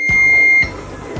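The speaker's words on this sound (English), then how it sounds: "And then wait for beeping." A waffle maker beeps in one steady, loud tone lasting about half a second, with a couple of soft thumps around it and no talking.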